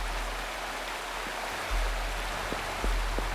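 Waterfall in Wuthering Waves, a steady broadband rushing of falling water at constant moderate level, with a few faint low thumps, no voices.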